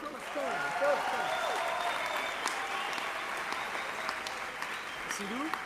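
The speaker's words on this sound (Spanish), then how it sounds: "Un fuerte aplauso, Joshua Aarón." Steady applause from a crowd at a live event in Bogota fills the space, continuous and fairly loud, with a voice speaking over it throughout.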